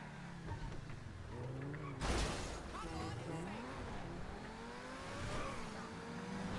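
A car engine revs in GTA V, rising and falling in pitch with a sharp loud burst near two seconds, while someone talks excitedly over it throughout.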